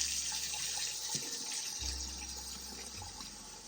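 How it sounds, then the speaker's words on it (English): Water runs steadily from a sink tap with a soft hissing rush, fairly quiet and continuous, with a low hum shifting underneath. "And I'm going to turn the water on."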